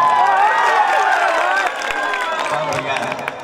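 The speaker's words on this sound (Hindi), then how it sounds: "तनी ताली मार के बता।" A crowd at a village stage show claps and cheers, a busy spread of hand claps and voices mixed with shouting and talk throughout, fairly loud and continuous.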